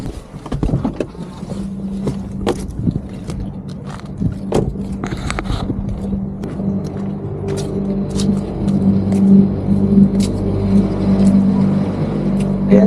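A parked car's engine idles steadily in hot weather, a low continuous hum with a humming tone throughout, broken by a few brief clicks and knocks early on.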